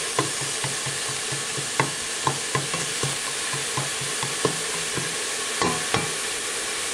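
Seasonings are stirred into a meat sauce in a pressure cooker pot, a spoon scraping in a steady rhythm of sharp taps and strokes over a continuous soft sizzle.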